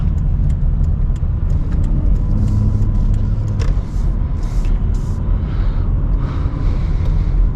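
Volvo S80 3.2 Summum sedan on a test drive, heard from inside the cabin as a loud, steady low engine and road rumble with faint ticks and brief higher whooshes over it.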